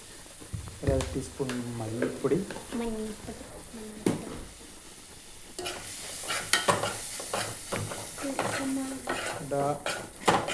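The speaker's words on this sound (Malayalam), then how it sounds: "മസാലയുടെ മുളക് പൊടിയുടെ പച്ചമണമൊക്കെ മാറുന്നത് വരെ ഇളക്കി കൊടുക്കുക" A pan of turmeric, coriander and chili powder masala being stirred, with scraping and clinking of a spoon against the pan over a soft sizzle, while someone talks over it throughout.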